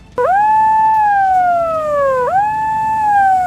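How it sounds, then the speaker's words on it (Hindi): A siren wails at a train accident rescue site, loud and close, starting abruptly and sweeping in long slow falling-then-rising cycles that fill the whole clip. "हादसे से सभी अलर्ट हो जाएं, इसके लिए वहां सायरन भी बजाया गया।"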